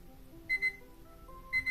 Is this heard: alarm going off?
yes